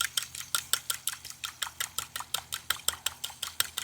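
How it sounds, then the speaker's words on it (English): A whisk beats a vinaigrette in a bowl with quick, steady metallic clicks and scrapes in an even rhythm, close and alone with no talk. "So when you're whisking, what you want is just this movement. You scoop from the bottom and then you bring air into it like this."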